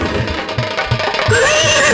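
A horse neighs in a nautanki folk stage show, a drawn-out whinny rising in the latter half over a busy background of music and crowd noise.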